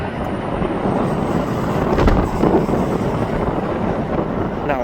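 A Turkish airline plane comes in to land directly overhead at Manchester Airport, its engines a loud, steady broadband roar that swells slightly mid-pass, with wind buffeting the microphone.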